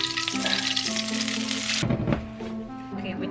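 Steak searing in a hot pan with canola oil, a dense broadband sizzle for the first couple of seconds, then quieter frying crackle with some clatter as the meat is moved.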